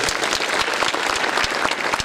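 A church congregation at an evening revival service claps loudly and continuously, many hands together in a dense, energetic burst of applause.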